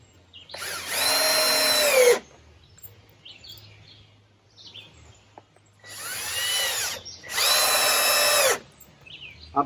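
A cordless power drill drives screws into wood while building a chicken coop, three long whirring bursts with pauses between, loud and close, with faint birds chirping in the background.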